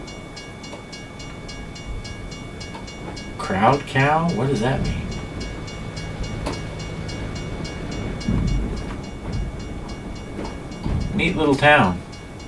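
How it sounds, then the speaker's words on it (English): A train rolls through a small Montana town in the snow, a steady rumble heard from a passing vehicle while people talk over it in a few short bursts. "There was a train coming through when we drove through."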